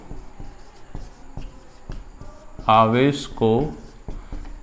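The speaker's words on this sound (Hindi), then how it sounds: "तो इसको हम लिखेंगे" Chalk or marker strokes on a board scratch and tap in a steady rhythm, close and fairly loud, while someone speaks briefly partway through.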